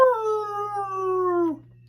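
A human voice imitates a wolf's howl: one long, sustained wail that glides slowly downward and breaks off sharply after about a second and a half.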